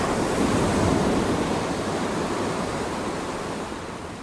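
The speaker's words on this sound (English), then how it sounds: "Around them, the waves were surging in swells of 8 to 10 foot." Ocean waves surging in heavy swells of eight to ten feet, a broad roaring wash of surf swelling early then slowly easing, loud and continuous with no voices.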